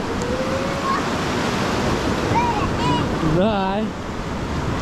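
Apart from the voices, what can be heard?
sea waves splashing over rocks on a wild beach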